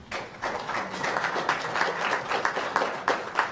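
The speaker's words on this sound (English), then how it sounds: "give him a round of applause" An audience at a city council meeting applauds a local goalkeeper, steady dense clapping throughout with rhythmic peaks, moderately close and with little talk.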